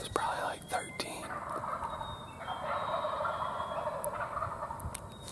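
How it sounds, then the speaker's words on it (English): Several wild turkey gobblers, about six or seven, gobbling at a distance on a New York spring hunting morning, their rattling calls overlapping and repeating against steady outdoor background noise. "There's like 6 or 7 gobblers."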